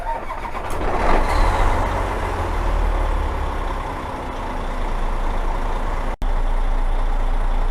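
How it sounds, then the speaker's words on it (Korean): Outside, a 2011 Hyundai Trago 460 manual dump truck's diesel engine cranks and catches, then settles into a loud, steady rumbling idle, briefly cut off near the end before resuming, with no one talking. "시동을 한번 걸어 보도록 하겠습니다"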